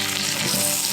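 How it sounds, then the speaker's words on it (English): Six cups of chopped onions sizzle and fry in butter in a pan, a steady close hiss that fills the short moment without any talk. "We're just going to saute these just until they're softened."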